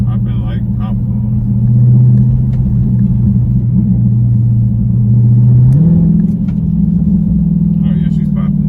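Deep, steady exhaust rumble from a car with a mid muffler delete, crackling and popping as the engine revs under load, with a rise in pitch partway through and a few faint bursts of talk.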